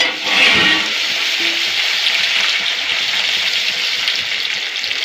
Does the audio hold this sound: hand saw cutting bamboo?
no